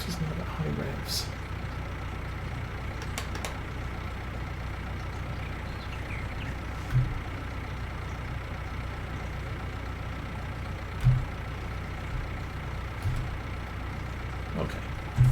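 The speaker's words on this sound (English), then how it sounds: "Tractor's not at high revs." In Farming Simulator 19, a tractor's engine idles at low revs, a steady low droning hum running throughout with a few faint clicks and knocks over it.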